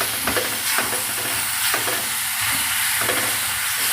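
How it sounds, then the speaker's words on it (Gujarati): Ground ginger, amla and chillies are stirred in a pan for a pickle, a steady broadband sizzle with soft repeated scraping strokes, close and continuous, no talking. "હવે નાખી દઈશું આદું, આમળા અને મરચાં વાટેલા. બધું મિક્સ કરી દઈએ."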